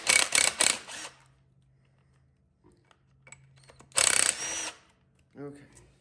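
A power drill backs out Loctite-secured screws on a Yamaha Kodiak engine during a rebuild, two loud bursts of whirring separated by a quiet stretch with small clicks and handling noises.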